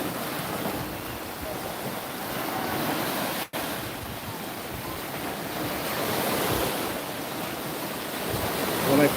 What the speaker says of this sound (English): Just listen to the waves.